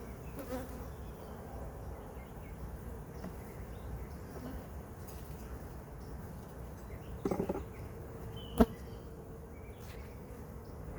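Honey bees buzz around hive frames while NUCs are installed, a steady close hum of many insects with faint rustles and a couple of brief knocks from handling the frames.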